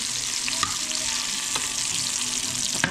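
Onions fry in a hot pan with a steady, bright sizzle and crackle, broken by a few sharp pops and scrapes of stirring, fairly quiet and close with no talking.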